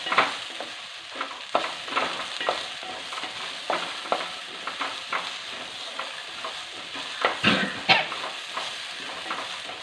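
A curry base of sautéed ingredients sizzles in a pan as spice powder is stirred through it, with a continuous frying hiss broken by repeated scraping strokes of a spoon, close and clear.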